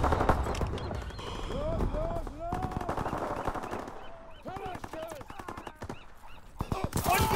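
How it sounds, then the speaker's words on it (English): Gunfire from a fighter aircraft strafing run in the World War II shooter Call of Duty: WWII, rapid bursts of shots with in-game voices calling out over the battle. "Fighter aircraft ready for strafing run."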